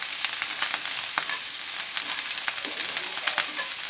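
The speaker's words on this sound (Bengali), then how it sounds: "এই যে দেখতে পাচ্ছেন মা ভাতটা ভেজে নিচ্ছেন বেগুনের সাথে নুন হলুদ দিয়ে।" Rice frying in a pan with brinjal, salt and turmeric, giving a steady close crackling sizzle with scattered sharper pops and spatters throughout, no voices.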